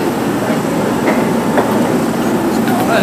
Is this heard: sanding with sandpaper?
no